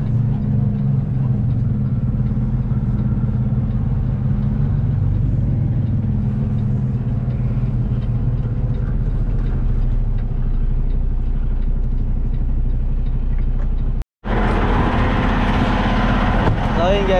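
A truck engine idles with a steady, loud low rumble and constant drone, unchanging for many seconds, broken by a sudden brief cut before a brighter, noisier stretch resumes.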